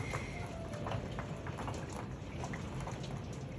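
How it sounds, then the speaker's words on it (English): Steady rain patters against a window, a continuous soft hiss dotted with faint individual drops, with no voices. "It seems like it's hitting right towards my window."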